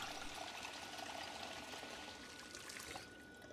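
Water pours steadily from a kitchen tap into a water bottle in Project Zomboid, a continuous trickling stream at a constant level that eases slightly near the end.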